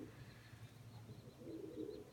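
A pigeon sitting on eggs gives soft, low cooing, faint and close, with a fuller coo rising toward the end over quiet background noise.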